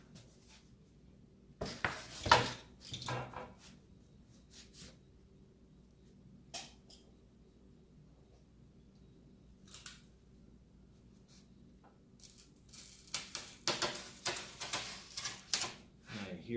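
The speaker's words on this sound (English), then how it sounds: "That foam is not cutting well at all today." A blade cutting acoustic foam for a DIY desktop recording booth, a material that cuts poorly: scratchy, rasping strokes in irregular bursts separated by quiet pauses, with a denser run of scraping near the end, close and fairly loud.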